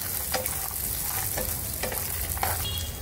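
Green chillies and ginger roast in hot fat in a pan, giving a steady loud sizzle with a few sharp spatula scrapes and clinks breaking through at intervals.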